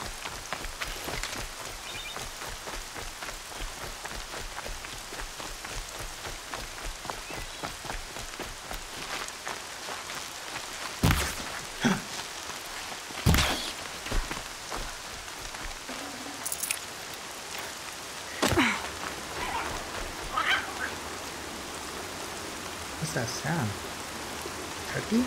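Rain patters steadily in the Horizon Zero Dawn game world, a soft continuous hiss punctuated by a few sharp louder knocks and splashes, with faint talk drifting underneath.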